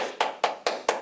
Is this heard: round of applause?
yes